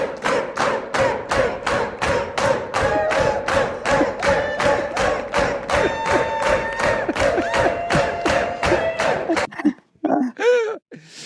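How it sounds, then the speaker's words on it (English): A Romanian crowd at a rock club chants for an encore in a steady, loud rhythm of about twenty evenly spaced shouted beats. The chant breaks off into a few scattered, looser yells at the end. "here is a Romanian crowd at Rock Club shouting for an encore"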